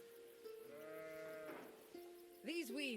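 Sheep bleating in the Roman city-building game Anno 117 Pax Romana: a few wavering, drawn-out bleats and a higher final call, soft and somewhat synthetic over faint background game ambience.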